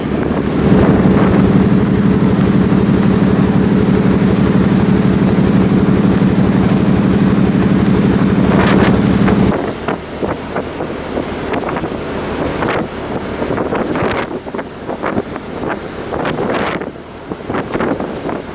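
Strong wind on a container ship near the Atlantic buffets the microphone with a steady roar, then eases into gustier, uneven rushes with water churning below.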